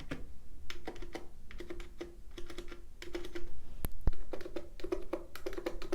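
Fast, irregular typing on a Cox Endeavor capacitive keyboard with 50g key weighting, dense close clacks with a duller, deeper tone, running continuously with no voices.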